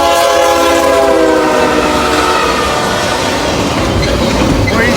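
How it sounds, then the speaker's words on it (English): A southbound train roars past close and loud, its horn sounding in sustained chords over the heavy rumble and rattle of wheels on rail. "that southbound came like right now"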